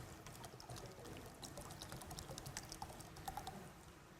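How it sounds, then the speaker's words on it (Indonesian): Roughly 500 ml of water poured into a large bowl, a faint continuous trickling splash with light clicks, close and steady for several seconds without talk. "Pertama kita tuangkan air dulu."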